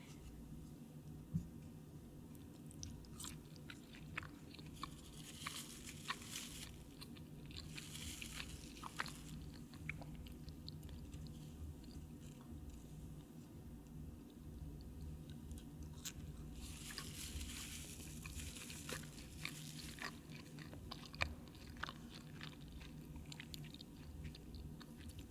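Close, soft chewing and biting on Raising Cane's chicken tenders, fries and Texas toast dipped in cane sauce, with quiet mouth sounds and occasional crunches spread through a long, low-level stretch without talking.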